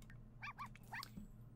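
Puppy barking in The Sims video game: a few short, high yips in quick succession, clear and close over a steady low game hum, with no talking.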